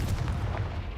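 A Confringo explosive spell goes off in Hogwarts Legacy, a brief heavy booming burst with a deep low rumble that fills the short moment, loud and close with no voices.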